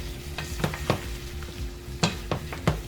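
Shrimp cooking in a pan for coconut curry, a quiet sizzle with several sharp scraping and clinking stirring strokes of a utensil against the pan, no talk.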